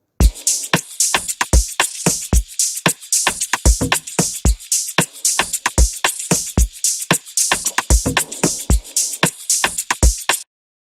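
Chopped hi-hat loop for an Amapiano beat, built in FL Studio with an ambient effect: a steady run of crisp, bright ticks in a bouncy, tightly repeating rhythm, loud and close with no voices, stopping cleanly near the end.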